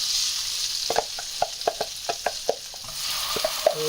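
Blended tomato puree sizzles steadily in a frying pan over a low flame while a spoon stirs and taps, giving a series of sharp clicks over the frying noise.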